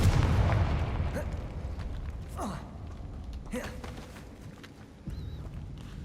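Confringo blasting-curse explosions in Hogwarts Legacy, a heavy boom at the start followed by several sharper magical blasts and whooshes spread across the clip over low rumbling game ambience.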